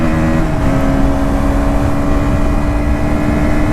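A KTM Duke 160 motorcycle engine drones steadily under hard acceleration, a loud, close, continuous buzz with wind noise and no voices.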